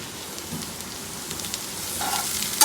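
Coconut and potato curry sizzles steadily in a pan as it is stirred, a close, continuous frying hiss with light scraping strokes and a sharper clink of the spoon near the end.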